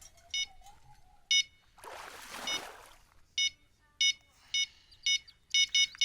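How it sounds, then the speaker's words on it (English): Electronic bite alarm on a fishing rod at a lake while reeling in a lake trout, sounding short sharp beeps in an irregular series that grow more frequent toward the end, with a burst of rustling and splashing noise between. "It's not beeping as heavy now."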